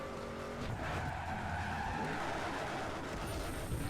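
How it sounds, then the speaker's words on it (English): Racing car engine roaring continuously alongside screeching, skidding tires in a Need for Speed Underground 2 remake game, loud and close throughout. "they always had good car sounds"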